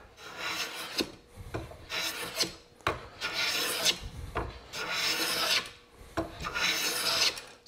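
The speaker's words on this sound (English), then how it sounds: "way to begin hand planing, is planing material that's narrower than the mouth or the blade of your iron here" A hand plane shaves a wooden board in long rasping strokes, about six passes in a steady back-and-forth rhythm, close and clear with no talk.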